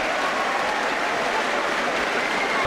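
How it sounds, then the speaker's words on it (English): A boxing crowd at a Frank Bruno versus Mike Evans heavyweight fight in Glasgow's Kelvin Hall, a steady roar of applause and crowd noise reacting to a punch at the end of round one. "listen to the crowd response as Evans throws a punch at long last at the end of round 1"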